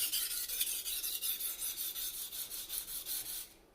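Freehand knife sharpening on a whetstone, a quick series of rhythmic rasping strokes of blade on stone, close and steady, ending abruptly.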